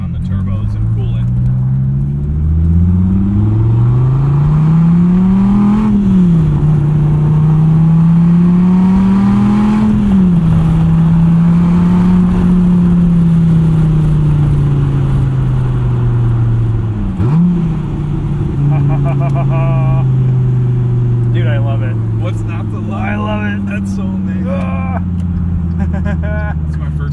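A 2015 Dodge Viper SRT engine revs up and down in several loud, close sweeps, rising and falling in pitch, with a person talking over parts of it.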